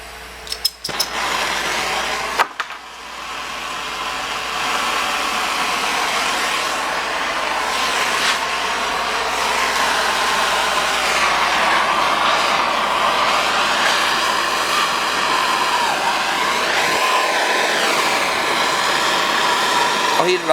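A steady roaring hiss from a torch flame heating a copper water pipe for soldering, continuous and close for most of the stretch, with a few clicks and knocks at the start.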